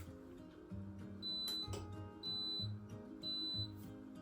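A pressure cooker timer sounds three short electronic beeps at even intervals, each clear and close, over a low background hum.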